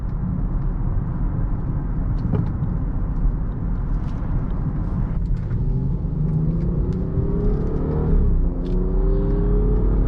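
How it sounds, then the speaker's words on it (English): A 2018 BMW X5 xDrive35i SUV drones with a deep, steady exhaust rumble, close and loud, with a slight rise in pitch as it accelerates near the end. "That exhaust sounds pretty sporty."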